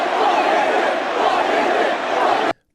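A large concert crowd at a show roars and chants in a dense, continuous wash of voices, loud and steady before cutting off abruptly.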